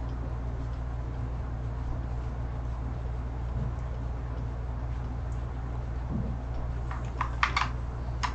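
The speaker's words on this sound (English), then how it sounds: "That's me changing my brush size, if you can hear that clicking, my mechanical keyboard." Mechanical computer keyboard keys click while brush size is changed during a digital drawing demo. The taps are quiet and intermittent over a steady background hum, with a quick cluster of sharper clicks near the end.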